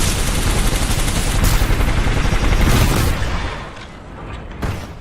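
L-Star weapon fire in Titanfall 2, a loud, continuous rapid barrage that rolls on for about three seconds, eases off, then ends with a final sharp burst.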